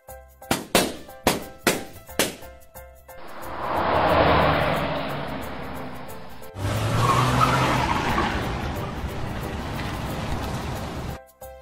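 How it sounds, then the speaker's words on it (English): A steady road-vehicle roar builds and holds, then a second car pass rushes by loudly, after a quick series of sharp knocks at the start. "Car."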